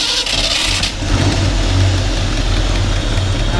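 A 1965 Ford Mustang engine, started cold, settles into a loud, steady idle with a deep low rumble and a slight exhaust leak, running on without a break and heard up close with no one speaking.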